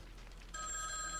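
A telephone in a horror film starts ringing partway through with a steady, bright electronic trill, faint against a low, quiet background.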